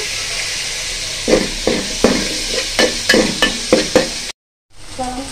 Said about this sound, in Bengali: এবার এই যে চিংড়ি মাছগুলো দিয়ে দিব